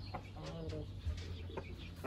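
Chickens cluck quietly at a rooster farm raising the Jutaco line, a few short calls close by against low background noise.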